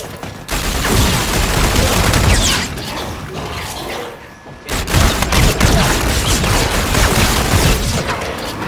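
Gunfire in the zombies mode of Call of Duty Infinite Warfare erupts in dense, loud rapid bursts with booms and mechanical clatter, broken by a brief lull before resuming.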